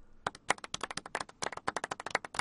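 A small classroom crowd gives brief, thin applause, a quick scatter of separate hand claps over about two seconds, fairly close and with no voices.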